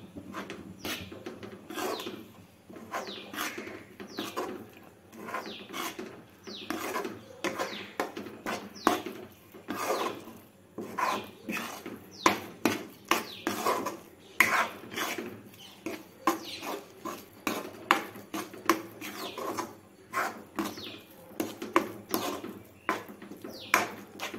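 Chana dal laddu mixture stirred in a pan, a steady run of close scraping and clinking ticks from the spoon against the pan bottom, irregular and continuous with no voices.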